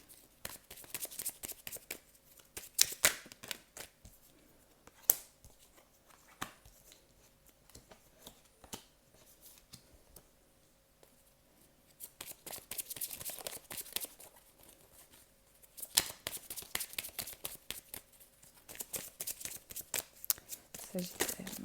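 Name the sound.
shuffling tarot oracle cards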